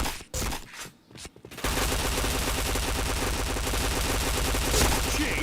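Rapid, sustained automatic gunfire from a shooter video game, a brief burst and pause giving way to a dense, loud, continuous volley of shots and game effects.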